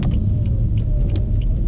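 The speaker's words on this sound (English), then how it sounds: "I'll watch out for these cars" Cars pass a roadside overlook on Highway 80 with a steady low rumble of tires and engine, close and continuous through the short moment.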